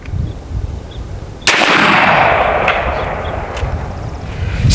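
An AEA Zeus 12 gauge air shotgun loaded with Civil War style chain shot fires once, a sharp, loud burst that cuts in abruptly and is followed by a sustained hissing rush of air and faint outdoor ambience.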